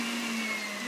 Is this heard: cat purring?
no